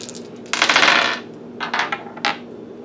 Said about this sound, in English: Let's do the dice on this one.